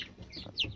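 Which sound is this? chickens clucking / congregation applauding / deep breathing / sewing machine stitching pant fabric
chickens clucking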